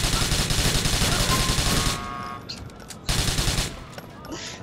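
Rapid gunfire bursts from the video game Grand Theft Auto IV, in multiplayer, loud at first and then cutting out, with a second short burst and fainter sounds after.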